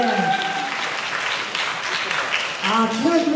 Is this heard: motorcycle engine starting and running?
no